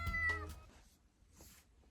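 A Bengal kitten on her first day home meows several times in quick succession, loud and close at first, then softer, higher cries trail off into a quiet room.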